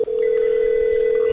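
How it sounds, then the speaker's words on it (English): A telephone extension on a call center phone system rings after a supervised call transfer, sounding as a loud, steady electronic tone that holds without a break and stands alone, with no talking. "Now you can see that Chamin extension is ringing"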